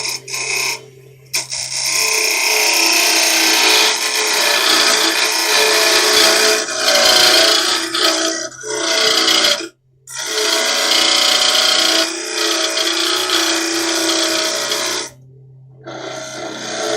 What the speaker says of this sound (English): Bit of a ridge at the bottom, so I'll use my carbide